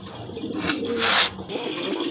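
Danish pigeons, red-geared males, give a soft low coo among a small flock, close and fairly quiet over a faint background murmur.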